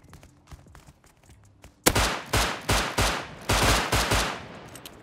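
Gunfire from the survival game Rust: after faint scattered sounds, a close, loud burst of about ten rhythmic shots fires in quick succession.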